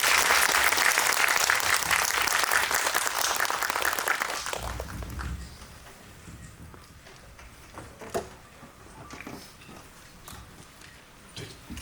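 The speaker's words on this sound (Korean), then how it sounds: "임지연 배우님, 조윤철 감독님께 박수 부탁드립니다." Festival audience applauding after a film Q&A in a cinema, dense sustained clapping loud at first and then thinning into scattered claps, with a few voices over the fading applause.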